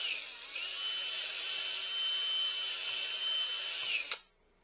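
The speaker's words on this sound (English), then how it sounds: "Chuck that up in your drill." A power drill with a Forstner bit bores into a bowling ball, giving a steady high whine for about four seconds before it stops abruptly.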